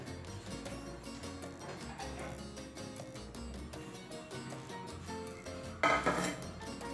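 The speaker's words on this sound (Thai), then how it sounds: "เดี๋ยวจะลองผสมให้ดูนะคะจะผสมข้าวโพด" Utensils clinking and scraping against a bowl while corn is mixed with salt and coconut, a continuous soft clatter of dishes with a brief louder rattle near the end and no talking.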